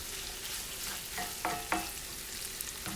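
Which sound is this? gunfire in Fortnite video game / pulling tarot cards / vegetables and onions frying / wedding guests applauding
vegetables and onions frying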